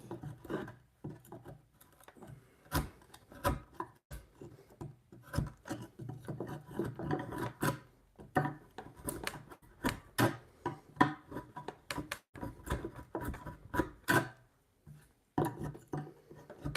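Hand carving of wood for corner braces on a mortise-and-tenon bunk bed makes repeated rasping and scraping strokes in irregular bursts, close and moderately loud in a quiet workshop.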